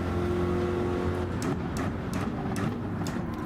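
A GT3 race car's engine in Gran Turismo drones steadily at a held pitch, then shifts into a rougher, more varied roar with repeated sharp bursts as it runs close behind other cars in a championship race at St Croix.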